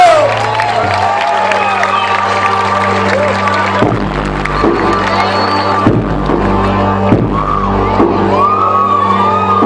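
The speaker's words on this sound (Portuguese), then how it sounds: "Salva de palmas para Guaiçara." A loud church crowd in Guaiçara claps, shouts and whoops in praise, all of it blended with music and voices. The clamour stays continuous and full throughout.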